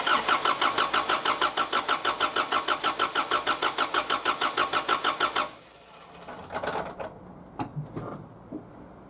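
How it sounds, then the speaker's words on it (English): A Toyota 3RZ turbo engine cranks over on the starter in a steady, rapid pulsing rhythm for about five seconds without firing, then stops, followed by a few quieter mechanical clunks and rattles nearby. "I'll crank the engine until I get oil out of it, so I know that I have oil pressure"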